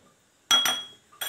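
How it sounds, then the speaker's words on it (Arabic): A spoon clinks sharply twice against a container while scooping starch, then once more after a short pause, close and quiet otherwise. "غنديرو معلقه كبيره ديال النشا بحال هكا"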